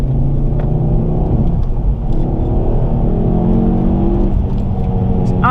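A 2007 Ford Focus ST with its turbo boost raised to 1.3 bar accelerates hard, its engine heard loud from inside as a rising, droning rumble with a faint turbo whir.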